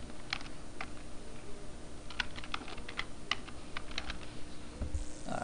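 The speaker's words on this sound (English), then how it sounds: "go ahead and type your username and password in here" A username and password are typed on a computer keyboard in a quiet room. The keystrokes are close, light and irregular, with short pauses between clusters of taps.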